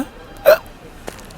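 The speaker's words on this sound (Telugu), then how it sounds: "ఎక్కిళ్ళు వస్తున్నాయిరా" A sharp, loud hiccup bursts out, followed a moment later by a second, softer hiccup against a quiet background.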